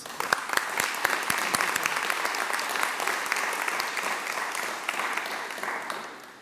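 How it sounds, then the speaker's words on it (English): An audience at a civic recognition event in Livonia gives a volunteer a round of applause, beginning with a few distinct claps, swelling into steady, full clapping and then fading at the end. "please take a minute and give him a round of applause"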